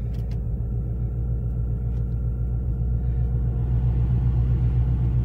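A 2014 Ford Mustang GT idling with the air conditioning switched on, a steady, loud, low engine rumble holding constant throughout with no talking.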